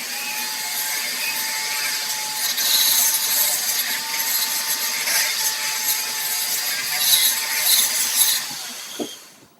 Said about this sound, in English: I'm going to grind off a little more on the lowers.